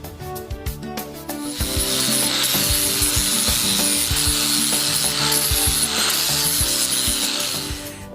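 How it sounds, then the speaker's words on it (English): An angle grinder works over fresh welds on metal: a few clicks and knocks, then a loud, sustained, rough grinding roar held for several seconds, close to the listener, before it tails off. "Now I'm going to make these pretty with my angle grinder."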